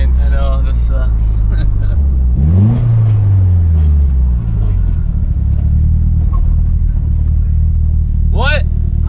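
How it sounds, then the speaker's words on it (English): A Nissan 240sx/300zx engine with a boost leak revs and rumbles loudly, pitch sweeping up and down through a gear change, while people talk over it in the car. "Sounds like a boost leak or something."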